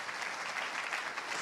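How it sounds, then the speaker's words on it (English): Church congregation applauding, a dense continuous clapping crowd heard steadily throughout, fairly near and without talk over it. "Please clap for Jesus."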